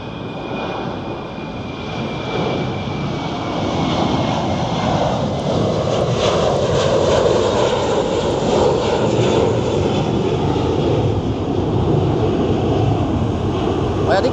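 A fixed-wing airliner passes at Hong Kong International Airport, its engine roar swelling into a loud, sustained drone that holds steady for the whole stretch, with wind buffeting the microphone.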